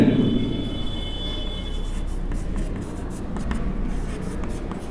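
Steady scratchy writing on a board, continuous and close, with faint background noise throughout and no clear pauses.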